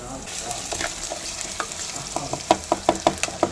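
Garlic and ginger fry in a pan with a steady sizzle, then a run of sharp scrapes and clinks as they are stirred, growing louder near the end; no talking.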